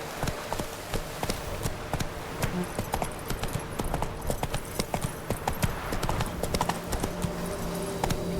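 Horse galloping in the video game The Witcher 3: Blood and Wine, a rapid, steady clip-clop of hooves throughout, close and even, with faint music tones behind.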